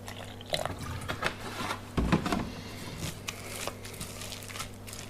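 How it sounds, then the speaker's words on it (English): Milk poured a little at a time into Yorkshire pudding batter, with soft liquid splashes and clicks close by over a steady low hum. "So this is where we add the milk. Just a bit at a time."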